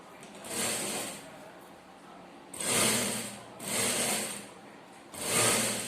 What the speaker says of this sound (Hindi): किनारी पे सिलाई चलाना है यहाँ पर